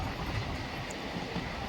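A passenger train travelling from Kuzhithurai to Rameshwaram rumbles along the rails, a steady dense roar of wheels and carriage noise heard from inside, with no voices.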